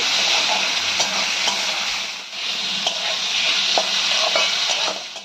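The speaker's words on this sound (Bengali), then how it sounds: "এবার দিয়ে দিচ্ছি ধীরে ধীরে করে কেটে রাখা ক্যাপসিকামটা দিয়েও আমরা হালকা করে একটু ভেজে নেব" Sliced onion and capsicum frying in a pan for dhaba-style chicken, a dense, loud sizzle with intermittent spatula scrapes and stirring, briefly dipping midway before continuing.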